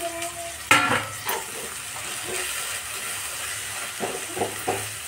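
Leafy greens are stirred into a hot pan of vegetables, giving a steady frying sizzle with a louder scrape and clatter near the start and a few brief utensil knocks toward the end.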